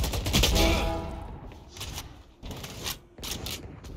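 Rapid bursts of Phantom rifle fire in the shooter game Valorant, loud and close, arriving in several short clusters with brief gaps between them.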